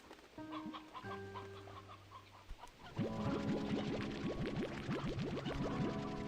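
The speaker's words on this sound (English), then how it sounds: "You're just farming chickens here." Chickens on a video game chicken farm cluck in a busy overlapping stream, growing denser and louder halfway through, with steady tonal game sounds underneath.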